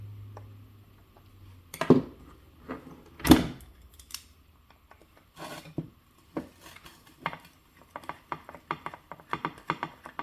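Small screws being backed out of the slew ring on a Volvo 160E RC excavator, a driver giving sharp ratcheting clicks in quick close bursts with brief pauses between turns.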